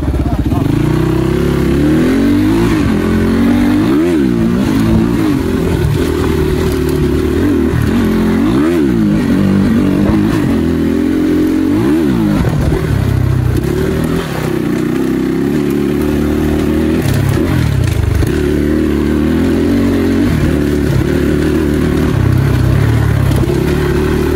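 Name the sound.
motorbike engine revving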